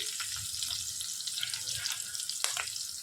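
Garlic frying in a pan with green chillies, a continuous gentle hiss and crackle of hot oil close up, with faint low clatter underneath and a couple of slightly louder pops near the end.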